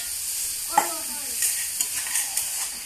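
Meat sizzles in an iron wok over a clay stove, a steady frying hiss broken by a few scraping stirs of a spatula, close and fairly loud.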